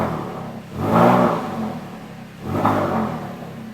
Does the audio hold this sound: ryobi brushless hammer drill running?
no